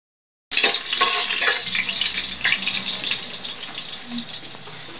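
Garlic, onion and ginger dropped into a hot pan for chicken feet adobo, bursting into a loud, steady crackling sizzle that slowly settles, with faint stirring and no talk over it.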